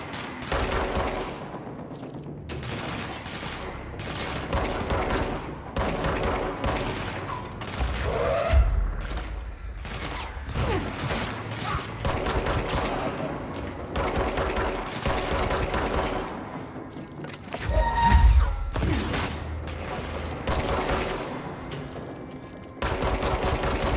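Sustained automatic gunfire in the video game Control, with long rapid bursts and heavy booming impacts, loud and close across most of the stretch, with brief pauses between volleys.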